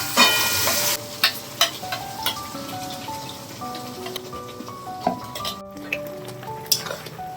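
Spice paste dropped into black cumin frying in hot oil sets off a sharp burst of sizzling, which settles into a softer crackle broken by spoon taps and clinks against the pan.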